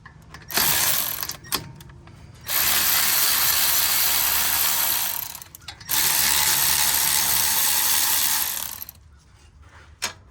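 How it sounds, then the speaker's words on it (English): A hand ratchet set in reverse works on the brake bolts of a 2016 Jeep Wrangler during a brake job, giving two long, close, rapid clicking runs separated by short pauses and a few clanks. "We're gonna put our ratchet in reverse."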